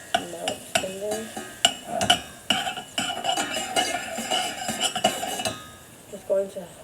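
Oatmeal with a melting tablespoon of butter stirred in a pot, a spoon scraping and clinking against the metal in an irregular rhythm of sharp taps and rubs, close and fairly loud, with a voice faintly present.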